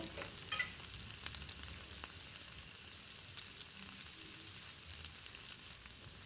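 Ground spices such as cumin powder fry over low heat in a pan for a Katla fish-head chachori, a soft, steady sizzle with faint stirring scrapes, close but quiet and without talking.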